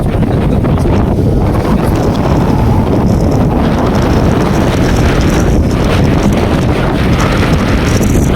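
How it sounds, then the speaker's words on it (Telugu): Strong, steady wind on a hilltop buffets the microphone with a constant loud roar that never lets up. "ఇక్కడ నుంచి అయితే గాలి మామూలుగా లేదనమాట"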